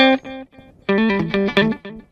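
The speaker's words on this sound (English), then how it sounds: "Tape echo." Electric guitar through a tape echo delay on a Line 6 Pod Go, a few short picked notes, a brief pause, then a quick loud run of notes with echoing tails.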